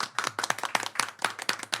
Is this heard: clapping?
yes